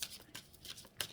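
Oracle cards from a dragon oracle deck being shuffled, a quick run of soft papery riffles and slaps close by, faint and alone.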